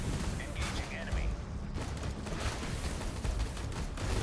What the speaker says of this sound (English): Oh, these things are acid mortars. I bet it's the acid mortars.